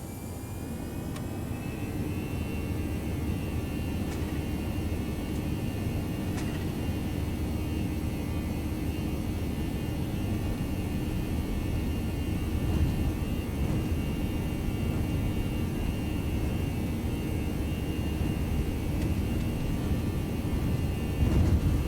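Toliss A319 airliner in X-Plane 11 rolling down the runway for takeoff at Innsbruck, a steady loud engine roar and rumble holding constant throughout with no talking.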